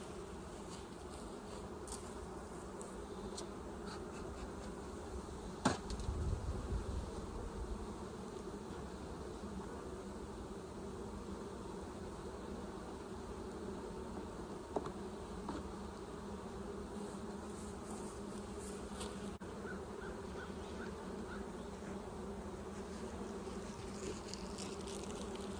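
Honey bees buzzing in a steady, dense drone from an open hive cluster, close by and continuous, with an occasional faint knock.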